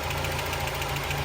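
A Mazda Miata engine idles roughly with a shaking vibration, a steady close low rumble with a faint rhythmic knock throughout and no voices.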